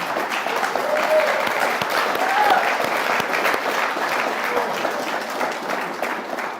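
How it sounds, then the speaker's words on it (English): Applause from an audience at a governor's economic development announcement, sustained, dense clapping at steady loudness throughout, fading slightly at the end. "Now, you need to clap really big for that."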